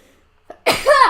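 A single sharp sneeze, loud and close, preceded by a short intake of breath.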